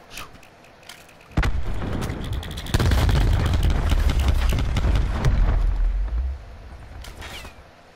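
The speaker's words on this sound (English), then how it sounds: "Grenade out." A grenade blast in Call of Duty Black Ops 4 multiplayer: a sharp crack followed by a heavy, rumbling boom that swells and fades over several seconds, with scattered gunshots around it.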